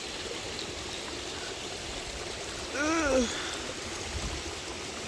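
Laurel Falls waterfall rushes in a steady, soft wash of water heard from a moderate distance, with a brief grunt of a voice partway through.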